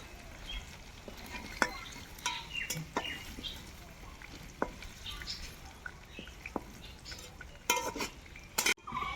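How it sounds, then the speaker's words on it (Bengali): Potatoes frying in oil left over from frying kuche eel, a soft continuous sizzle with frequent clinks of a spatula and utensils against the pan and faint ambient sounds nearby. "মাছ ভাজার তেলেই আলুগুলো ভেজে নেব।"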